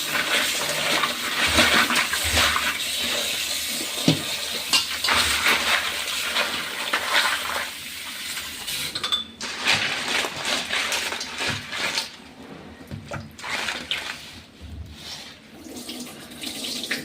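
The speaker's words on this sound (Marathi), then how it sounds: "सरळ आधी पाणी घेऊन धुवून काढूया" Live crabs are rinsed of mud under running water, a loud continuous splashing and gushing close up that shifts in intensity, with brief handling knocks and a quieter stretch near the end.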